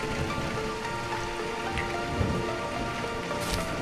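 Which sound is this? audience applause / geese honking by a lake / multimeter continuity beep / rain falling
rain falling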